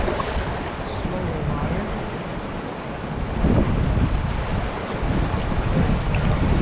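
Strong wind blows beside a river where someone is camping and fishing for rainbow trout, a loud steady roar of gusts buffeting the microphone with rushing water beneath, swelling louder midway.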